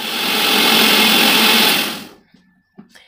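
A mixer grinder blending rice and fenugreek into a hair mask gives a loud, close, steady high whirr for about two seconds, then winds down and stops, followed by a few faint knocks.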